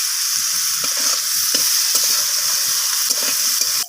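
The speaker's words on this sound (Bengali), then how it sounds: "বেগুনটাকে দিয়ে আমি আবারও সব কিছুর সাথে এভাবে নাড়িয়ে চাড়িয়ে ভাজা করে নিচ্ছি।" Brinjal and red amaranth greens fry in a pan with a loud, steady sizzle, broken by repeated scraping knocks as the vegetables are stirred.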